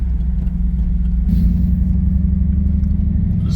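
1989 Pontiac Trans Am GTA driving with a steady low engine rumble and a slight pitch change from a gear shift, heard from inside the car, loud and continuous.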